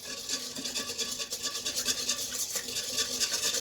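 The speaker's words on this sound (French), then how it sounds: "Je mélange un peu." Sugar and salt being stirred into water for Neapolitan pizza dough, giving a rhythmic scraping and swishing rub, close and steady for a few seconds, with no talking.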